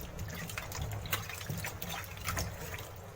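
Soaked mangoes being rubbed and washed by hand in water, with continuous close splashing, sloshing and trickling, moderately quiet and without talking.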